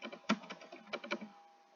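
Someone types on a computer keyboard, a short, quiet burst of a few irregular clicking keystrokes heard close up and alone.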